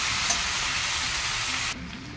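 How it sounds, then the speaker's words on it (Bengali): Spices fry in a pan with a loud, dense crackling sizzle that runs steadily, then drops abruptly to a quieter simmer with soft stirring near the end. "এই মশলাটা ভেজে নেব, সব রকম মশলা দিয়ে দেবো এবার"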